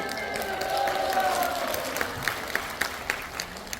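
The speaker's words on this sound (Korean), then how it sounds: "우리 레빈 여러분께 큰 박수 한번 부탁드릴게요" An audience in a concert hall auditorium claps in a warm burst at a singing contest, swelling and then thinning into scattered individual claps, with a faint voice underneath.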